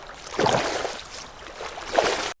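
Water splashing as a camel swims across a river in an animated children's story, two sloshing surges close by, with a gurgling flow between them.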